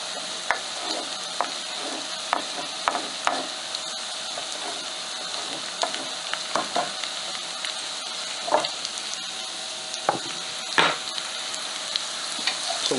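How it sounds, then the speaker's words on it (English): Garlic tipped into browned onions in a pan for a country-style hamburger, cabbage and vegetable soup, a steady close sizzle with frequent scraping stir strokes and clinks, no talking. "we're going to go ahead and add in the garlic"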